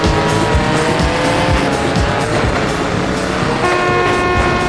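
Racing video game cars in a smuggling-themed driving game roar continuously with engine whine and squealing tires, loud and steady throughout, no talking.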